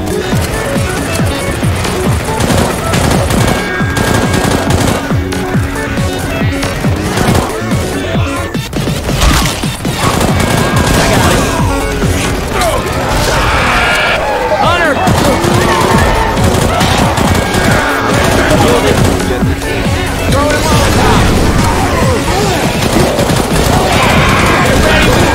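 Rapid gunfire in the zombie shooter Left 4 Dead 2, survival mode in a graveyard: dense, continuous bursts of automatic and shotgun fire mixed with crashes, loud throughout, with players talking over it.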